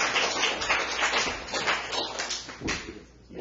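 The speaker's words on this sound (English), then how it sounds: "Give him a big applause." Audience applause for a poetry slam performer at a culture center event, a dense steady patter of clapping filling the clip close by, tapering slightly toward the end.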